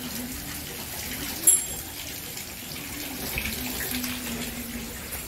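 Water flows and splashes steadily, like a running tap, in a continuous moderate rush with a brief louder splash partway through, and no talking.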